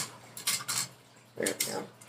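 Metal parts of a Sterno folding stove being folded up, two short bursts of light clinking and scraping metal with a pause between them, close by.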